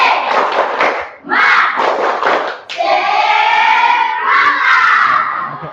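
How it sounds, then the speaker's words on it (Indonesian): Schoolchildren in an Indonesian classroom perform a rhythmic spirit clap chant, loud and close, with their voices shouting together in bursts over the claps and a brief pause between phrases. "Tepuk semangat."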